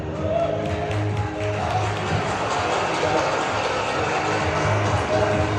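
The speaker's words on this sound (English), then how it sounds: "Let's all give a warm round of applause to Mr. AC de Guzman." Crowd applause welcoming the Honor Philippines e-commerce manager at a product launch event, a steady dense wash of clapping sustained loudly throughout with cheering mixed in.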